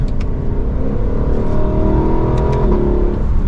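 A Lexus V8 engine revs with a deep, throaty exhaust rumble, rising and holding steady, loud and close with no voices.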